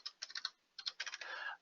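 Fingers type on a computer keyboard in two quick bursts of close, crisp key clicks separated by a short pause, with no other sound around them.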